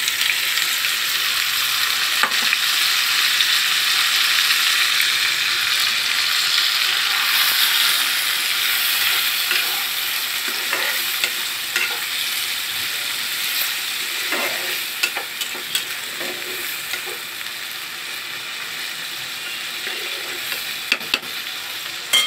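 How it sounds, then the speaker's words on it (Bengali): Marinated kachki fish sizzling as it fries with already-browned onions in a pan, a steady loud crackle that runs continuously and alone, with occasional sharper pops and stirring clicks. "এখন আমি মেখে রাখা মাছগুলো ছেড়ে দিব"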